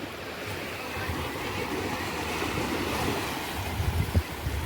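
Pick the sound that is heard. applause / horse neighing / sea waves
sea waves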